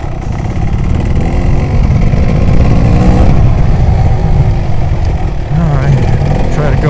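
A Kawasaki KX250 two-stroke enduro motorcycle rides a wooded trail in low gear, with a steady, loud engine drone that rises and falls slightly as it climbs and turns. A rider's voice comes through now and then over the engine.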